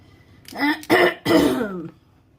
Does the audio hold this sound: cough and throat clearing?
yes